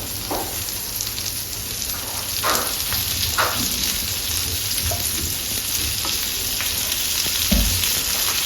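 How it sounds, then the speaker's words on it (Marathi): Oil drizzled over stuffed okra (bharleli bhendi) in a pan sets off a steady, loud sizzle and frying crackle with scattered pops and a few stirring scrapes, running continuously with no voices. "आता मी याच्यावरती तेल टाकते, आणखी तेलामुळे छान टेस्ट येते."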